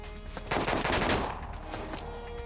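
Gunfire from the video game Disaster: Day of Crisis, a loud burst of rapid shots peaking briefly and then tapering into a quieter rattling tail, heard on its own.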